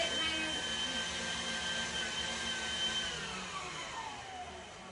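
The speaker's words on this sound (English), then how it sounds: "So I'm just going to whisk that up quite frantically at the moment." An electric whisk whirs steadily while it beats a sweet baking mixture in a home kitchen. The motor drone is continuous and fairly loud, and its pitch drifts slowly downward near the end.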